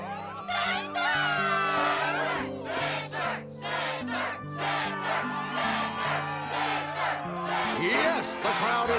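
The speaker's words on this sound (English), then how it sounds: "Yes, the crowd is fired up" A roaring video game crowd (Kingdom Hearts 2.5 HD ReMIX, Struggle tournament) cheers and shouts continuously over steady, sustained music, loud and energetic throughout.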